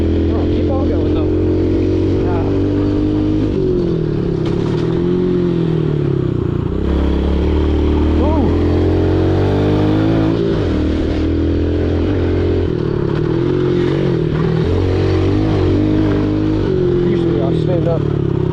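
RM85 and 110 dirt bikes riding off-road, engines loud and close, revving up and dropping back continuously with rattles and scrapes, while a rider talks over the noise.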